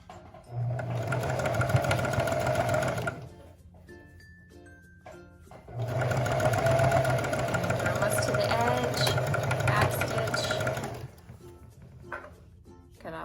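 A sewing machine stitches the seams of a mini dress bodice in two steady runs, one of about three seconds and a longer one of about five seconds, with a quiet pause between them.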